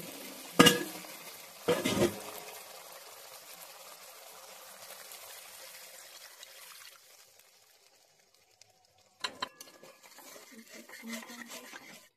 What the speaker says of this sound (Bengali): এবার আমি একটু জল দিয়ে দেব।